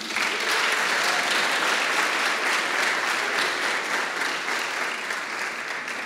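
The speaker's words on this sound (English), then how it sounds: "I would like you all to give a big round of applause for the organizers of this conference" Conference audience applauding the organizers at a tech event, a loud, sustained burst of many hands clapping in a hall, even and continuous from start to finish without speech over it.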